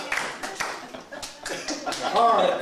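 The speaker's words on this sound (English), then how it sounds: "give him a round of applause" An audience at a comedy show claps for a comedian, a short run of uneven, fairly close hand claps mixed with chuckles and voices talking over them.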